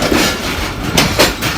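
A Pakistan Railways train at a station, its rolling, rumbling noise broad and steady with a few louder clattering surges, heard close with no talk.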